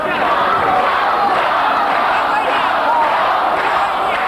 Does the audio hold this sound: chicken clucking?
no